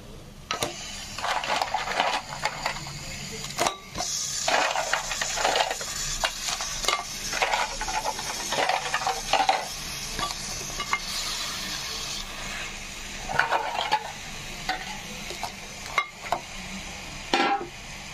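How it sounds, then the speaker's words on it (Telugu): Cleaned crabs tumble into a pan of masala for a spicy coastal-style crab curry, giving a steady run of clattering, scraping stirs and light sizzling close by with no talk. "ఇప్పుడు ఈ పీతల్ని ఇందులో వేద్దాం."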